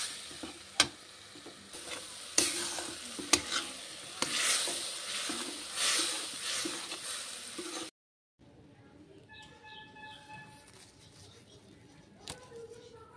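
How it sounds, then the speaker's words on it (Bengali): Spice paste for Bhola fish curry sizzling in hot oil, stirred with repeated spoon scrapes and clacks, loud and close. It then drops to a quieter simmer with a few faint taps. "এবার মশলাটা বেশ ভালোভাবে কষাতে হবে।"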